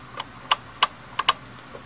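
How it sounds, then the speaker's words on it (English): Magnavox VR601BMG23 VCR loading mechanism drawing the cassette carriage in, heard as a handful of sharp, close mechanical clicks and clunks spaced irregularly over about two seconds, with no talking. "The loading mode takes the tape, the cassette carriage in"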